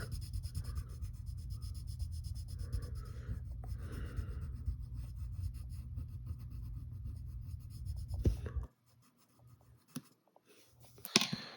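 A pencil coloring in a drawing on paper, filling a mask with black in rapid, continuous back-and-forth scratchy strokes, close and soft, then a pause and a few light scattered taps and scrapes.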